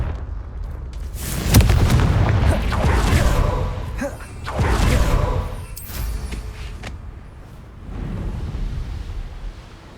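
Confringo spell explosions in Hogwarts Legacy, heavy booming blasts with whooshing rushes that swell and fade over several seconds, loud and close, with a voice speaking over the bursts.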